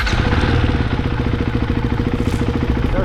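A Ducati Hypermotard 698 Mono single-cylinder motorcycle engine runs steadily at a low, even idle, with a close, loud, throbbing pulse and no talking.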